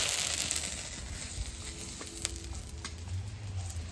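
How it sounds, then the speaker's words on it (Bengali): Bay leaf, cinnamon and cardamom sizzling in hot oil for a rohu fish curry, a soft continuous crackle and hiss with occasional small pops, close up and fairly quiet, no voices. "অনেক তেল ছেড়েছে, এই তেলের মধ্যে দিয়ে দেবো তেজপাতা"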